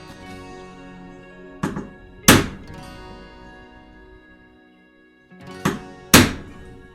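A chisel struck into wood to cut a marking outline: four sharp, close thunks in two pairs, each a hard mallet-like blow with a short ringing decay, separated by quiet gaps.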